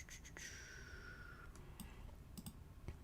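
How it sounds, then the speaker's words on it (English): A computer keyboard clicks faintly in scattered taps and short bursts, quiet and close against a low background hum. "You will hear a lot of keyboard during this stream"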